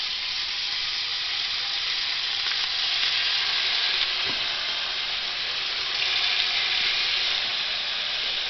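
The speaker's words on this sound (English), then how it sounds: "first up we got the bacon, which now I'm going to start cooking." Bacon frying in a pot as the first step of a chili, giving a steady, close, dense sizzle that holds level throughout with no voices.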